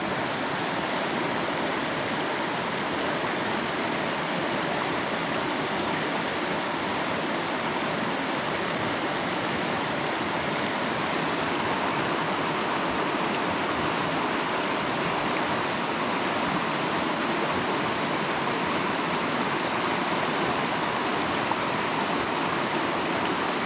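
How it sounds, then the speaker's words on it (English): The Middle Fork Snoqualmie River rushes steadily in a continuous, dense broadband roar of flowing water, loud and unbroken throughout with no voices. "this is the last shot of the middle branch of the Snoqualmie River"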